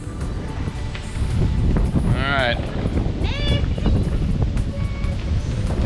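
Gusty wind rumbles and buffets against the microphone outside an old store on Route 66, with brief chirping sounds and a short spoken remark.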